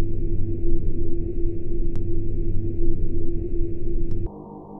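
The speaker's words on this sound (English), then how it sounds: "Another thing I'd like to mention about the supermarket is the noticeable ambiance in each room." Eerie ambience of an empty alien supermarket in the video game Nuign Specter: a steady droning hum with a high tonal whine and two faint clicks, dropping to a lower, quieter hum near the end.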